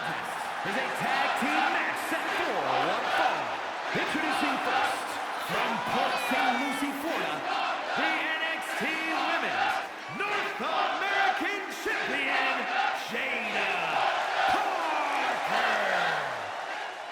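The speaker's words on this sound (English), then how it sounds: "Listen to the crowd chant Miss Parker." A large video game wrestling arena crowd roars and chants in unison, loud and continuous, with rhythmic cheering swelling throughout.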